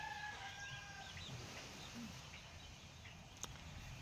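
Chickens cluck softly in the distance outdoors, scattered faint calls over a steady background hiss, with a brief sharp click near the end.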